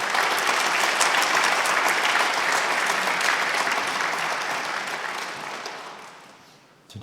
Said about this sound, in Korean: 우리 총장님 나오실 때 큰 박수로 맞이하도록 하겠습니다.